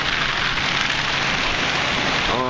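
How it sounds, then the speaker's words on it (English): Very hard rain from a supercell thunderstorm in Stockbridge, Georgia pours down in a dense, loud, unbroken hiss of drops striking surfaces close by. "this is some very hard rain we're getting right now"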